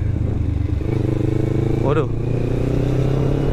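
A used Kawasaki Ninja 650 on a test ride drones with a steady, close engine note, heavily overlaid by a rider talking loudly.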